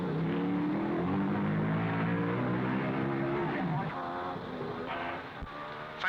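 1955 Formula 1 race cars rounding the Gasworks hairpin at the Monaco Grand Prix, engines droning and shifting pitch as they pass, recorded with a grainy, dated quality.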